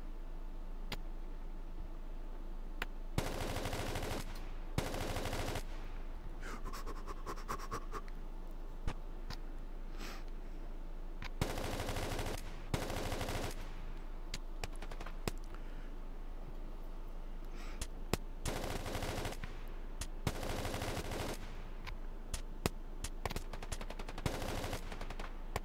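Machine gun in a video game firing in short bursts, the sharp rattling volleys arriving in clustered groups over a steady low background hum, with no talking.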